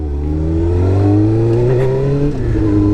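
Suzuki GSX-R 600 sport motorcycle engine revving hard on the road while lifting into a small wheelie, a loud, close, high-pitched inline-four howl rising in pitch, dipping briefly, then climbing again, with no voices.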